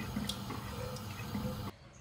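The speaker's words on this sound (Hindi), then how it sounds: "1 कप पानी मैंने पहले डाला था, हाफ कप अब डाल रही हूँ।" Water poured from a container into a pot of chana dal being cooked for dhaba-style dal fry, a steady close splashing trickle lasting under two seconds before stopping abruptly.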